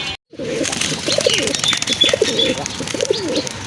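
A pair of Andalusian-coloured pigeons coo close by in repeated rolling phrases, with faint chirps and a brief silence at the start.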